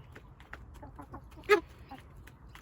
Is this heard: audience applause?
no